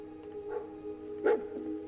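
Dogmeat, the dog companion in the Fallout 4 video game, lets out two short barks about a second apart over a steady low hum of game background sound.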